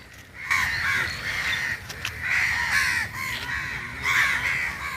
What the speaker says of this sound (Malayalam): കാക്കകൾ കൂട്ടത്തോടെ എത്തുന്ന കാഴ്ച സമൂഹമാധ്യമങ്ങളിൽ വൈറലാണ്